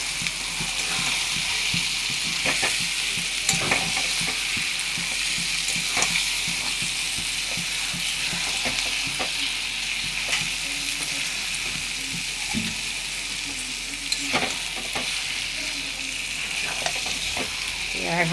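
Mutton and spices frying in a pan while being stirred, a steady close sizzle with scraping and clinking stir strokes throughout, alone without talk.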